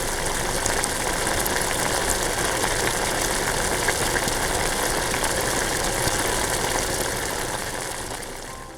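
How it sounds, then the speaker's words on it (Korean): An air-driven two-outlet hang-on aquarium filter bubbles constantly, a dense fizzing rush of air with a low churning undertone, close and unbroken before fading slightly at the end. "공기를 이용한 여과기들의 단점이 뽀글거리는 소리가 심하다는 것입니다"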